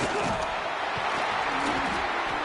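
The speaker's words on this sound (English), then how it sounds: "Listen to this crowd just shaking the girders of this place, trying to help their defense." A college football stadium crowd roars steadily and loudly at a Georgia Tech home game, a dense, unbroken wall of noise with no pauses.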